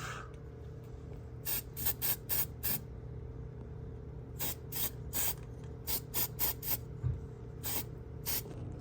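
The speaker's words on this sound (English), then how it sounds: "I'm also going to take some of this farm paint. I really like using this just on like the rust pieces" Aerosol farm paint sprayed onto rusty front suspension parts of a BMW E46, in short hissing bursts, a quick cluster, a pause, then more repeated sprays, close and clear with no talking.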